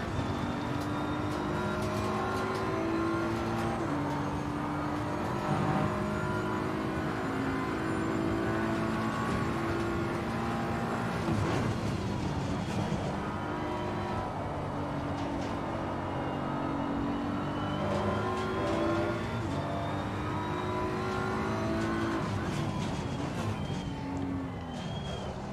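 A BMW M4 GT3 race car lapping Silverstone in Assetto Corsa Competizione, its engine a steady, loud drone whose pitch climbs and falls through the gears without a break, with no voices over it.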